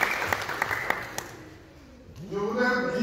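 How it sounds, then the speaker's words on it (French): A ceremony audience at an African union event applauds with scattered claps that fade out quickly before a voice begins speaking over the room. "Pourquoi applaudissez encore?"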